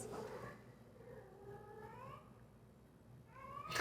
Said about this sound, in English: Just cat sounds if you can hear it.